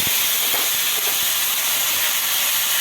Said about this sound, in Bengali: আর ওই যে টমেটো, আদা, কাঁচা লঙ্কা পেস্টটা, সেটা দিলাম।